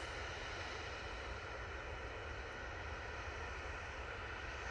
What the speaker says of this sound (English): Ryanair's about to come in, so let's get that.